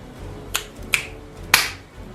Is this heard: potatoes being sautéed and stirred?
no